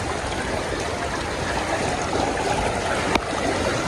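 Floodwater from cyclone rains pours over a road speed breaker near a lake in Chennai, a steady, broad rushing and gurgling flow that stays loud and even throughout, with one brief sharp knock near the end.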